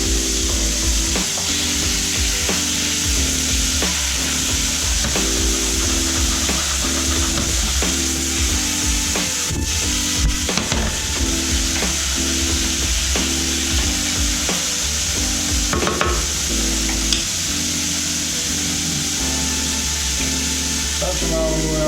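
Lobster pieces with a pinch of salt sizzle steadily in a hot pan, a constant bright frying hiss under a bed of kitchen background sound, with a few stirring knocks and faint talking in the room.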